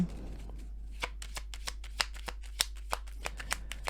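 A deck of cards is shuffled and drawn for a card reading, with a quick close run of crisp riffling flicks and snaps that fades out near the end.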